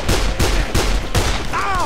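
Rapid gunfire from a weapon in the video game Dead Island, several sharp shots in quick succession followed by a ringing tail.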